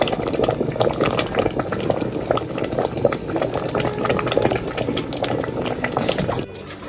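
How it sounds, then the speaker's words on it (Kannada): A pot of lentils and jaggery at a steady rolling boil, thick bubbling and popping close up, continuous for several seconds before the sound cuts away near the end. "ಕುದೀತಾ ಇತ್ತು."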